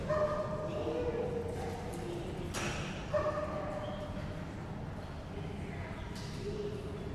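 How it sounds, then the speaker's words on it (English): A dog barks a few times somewhere out back at an outdoor dock diving event, the sharp yips rising briefly over a steady crowd murmur and background talk. "Not sure who that dog out back is, but it sounded just like my dog"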